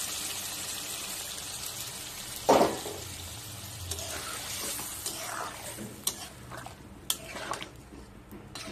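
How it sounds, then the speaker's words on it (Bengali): Hot water is tipped into a pan of simmering curry gravy, giving a sudden splashing hiss, followed by continued sizzling and stirring scrapes with a few sharp utensil clinks against the pot. "এখন আমি উপর থেকে গরম জল করে রেখেছিলাম, এই গরম জলগুলো পরিমাণ মতো দিয়ে দেব।"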